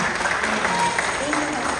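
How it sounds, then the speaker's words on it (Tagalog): A worship congregation claps together in a brief, dense burst of applause, steady and fairly loud throughout, with voices mixed in under the clapping. "Pwede ba yung the best na palakpak sa Diyos na Diyos?"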